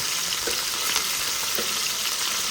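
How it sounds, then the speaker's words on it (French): Onion sizzling steadily in a pan for rougail saucisse while being stirred, with soft scraping strokes over a continuous close, even frying hiss. "Là, il y a mon oignon. Il y a le routier. Et là, on peut mélanger bien"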